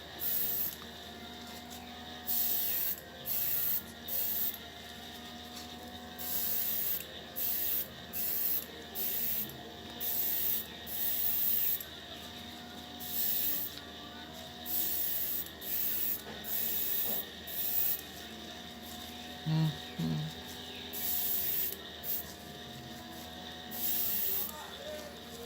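Spray can applying a primer coat to scale model wheels: repeated short, hissing bursts of spray in an irregular rhythm, close and fairly loud, with quiet mechanical clicks between them.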